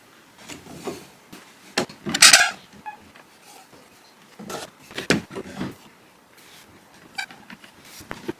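Wooden drawers of an antique 1665 spice cabinet slide and knock as they are fitted, a series of short scraping and thudding bursts with a sharp rasp near the start, close and alone.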